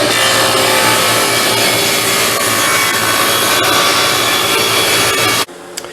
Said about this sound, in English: I want to cut this board exactly in half